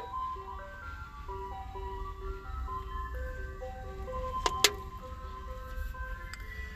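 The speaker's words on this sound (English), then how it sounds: "Let me let this ice cream truck pass real quick" A passing ice cream truck plays a looping chime melody, moderately loud over a low engine rumble, with a couple of sharp clicks partway through.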